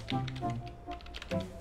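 Keys on a computer keyboard are typed in short, quiet bursts of close clicks and taps, pausing briefly between groups while a search topic is entered.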